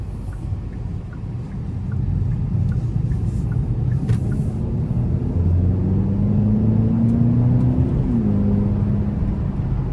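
A 2025 Hyundai Elantra N Line with the 1.6-litre turbo four pulls hard in normal mode, its engine drone building and climbing in pitch through a gear change over steady road and cabin rumble, heard from inside without talk.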